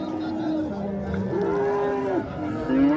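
A cow moos at a livestock market, a long drawn-out low call with shifting pitch, close and loud, ending in a rising tone, with faint background chatter.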